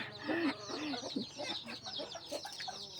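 A mother hen protecting her chicks clucks softly several times in a row, a faint series of short throaty calls close by.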